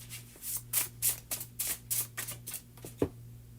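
A tarot card deck shuffled by hand in a run of quick, papery riffles and flicks, about a dozen bursts in steady rhythm, close and moderately loud over a constant low hum.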